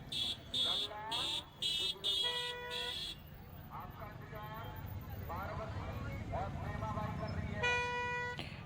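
Dense traffic on the way to the Saryu ghat in Ayodhya, with a string of short, sharp car horn honks early on, more honking near the end, and a steady road rumble and crowd noise underneath.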